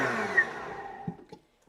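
An Optimum 9200A blender whirs loudly through a vegan garlic aioli sauce, a dense steady roar that gradually winds down over about a second and then stops, with a few soft knocks afterward.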